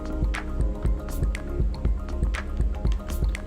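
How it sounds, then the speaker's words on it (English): Coffee grounds are stirred in a French press, giving soft wet squishing and dripping sounds in a steady rhythm at close range, with no talking. "stir the coffee"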